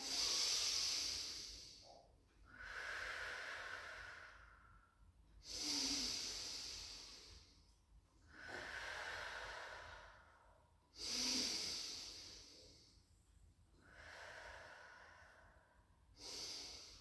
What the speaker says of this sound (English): Just hold, take some deep breaths in and out.